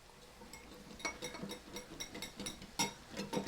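Cornstarch being whisked into a soy and oyster sauce marinade with pepper, light irregular clinks and scrapes of a whisk against a bowl, quiet and close, with no talking.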